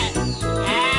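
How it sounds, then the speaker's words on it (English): A sheep bleats in a Thomas & Friends video game, one long wavering cartoonish bleat heard loud and close, alone without talk. "Some sheep have wandered off from the farm."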